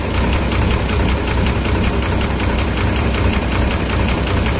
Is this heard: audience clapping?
no